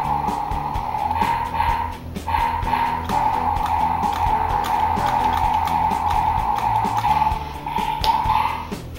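Loud electronic sound effects from a D-Bazooka toy robot dog: a sustained buzzing tone with rapid clicking bursts and yappy, engine-like noises, continuous for several seconds.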